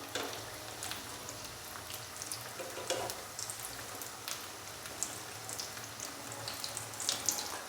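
Potato box patties fry in hot oil as a steady, fine crackling hiss with scattered brighter pops, continuous and close with no voices.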